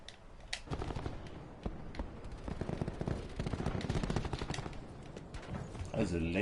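Rapid automatic gunfire from a laser gun in the Call of Duty Black Ops 4 video game rattles continuously and loudly, with players talking over the shooting.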